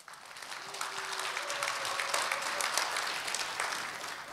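An audience at a poetry recital by the Sangju recitation association applauds and cheers, a swelling wash of clapping that rises quickly and stays steady at moderate distance.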